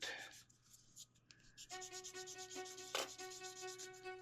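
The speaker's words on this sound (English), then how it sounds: "I think I need to lower these battery cases just a little bit. So I'm going to sand that." Sanding plastic battery cases on a 1:35 Miniart Sd.Kfz. 234/2 Puma scale model, a steady close rubbing rasp with a faint tonal whine running beneath it, heard alone without talk.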